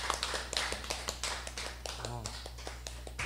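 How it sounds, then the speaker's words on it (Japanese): Scattered clapping from a crowd at a live year-end TV broadcast event with karaoke and festivities, light and uneven under a continuous low hum, with people talking throughout. "皆さん拍手拍手。"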